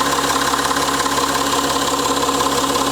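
The engine of a Citroën C6 with a suspected boost leak runs steadily, heard loud and close from underneath the car as a continuous dense hum with a faint hiss and no voices.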